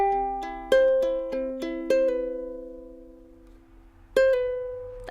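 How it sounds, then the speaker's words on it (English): Fingerpicked ukulele notes ring out cleanly and close, with a few sharper, harder plucks on one string that bend and slide in pitch, then sustain and fade quietly before another strong pluck. "So when I pluck a bit harder on that string, we get this effect."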